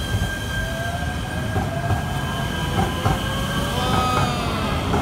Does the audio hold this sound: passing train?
yes